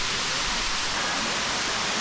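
Mother White Waterfall near Kawaguchi Asama Shrine in the foothills by Lake Kawaguchi, a steady broadband rush of falling water, constant and full throughout with no voices.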